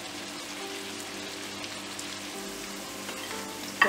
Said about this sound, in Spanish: En una sartén ya he puesto toda la cebolla cortada juliana y la voy a pochar a fuego suavecito